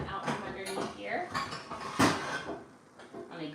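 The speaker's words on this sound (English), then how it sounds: "I'm gonna grab a little frying pan out from underneath here" A small frying pan pulled from a kitchen cabinet under the counter clanks and clatters against other pots and cookware in a few sharp metallic knocks, with a person talking throughout.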